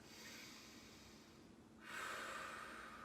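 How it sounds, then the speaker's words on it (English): Deep breathing during a barre fusion workout: a steady airy breath that swells into a louder, fuller exhale near the end, close up with no talking. "2 more deep breaths."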